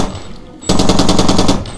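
Rapid automatic gunfire from a weapon in the video game Far Cry 2: a quiet lull, then a loud sustained burst of evenly spaced shots running about a second before easing off.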